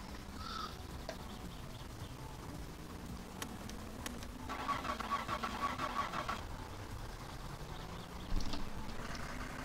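A van engine in My Summer Car cranks and turns over at low volume, its rising and falling hum drawn out amid faint ambient noise and a few distant clicks.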